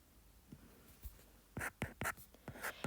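Pen strokes writing out a math equation on paper, a series of close, distinct scratching marks that grow denser and louder toward the end, with no talking.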